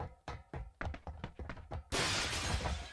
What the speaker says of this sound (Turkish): Cam sesi var.